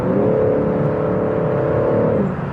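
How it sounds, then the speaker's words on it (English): A BMW M3 Competition engine heard from inside the cabin while driving, a loud steady droning hum with a sustained tone that holds briefly then eases off. "The engine sounds great on the inside."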